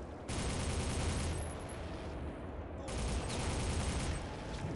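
Rapid gunfire rattles in the shooter Soldier of Fortune, two long sustained bursts of loud, continuous shots with a short lull between them, and no one talking.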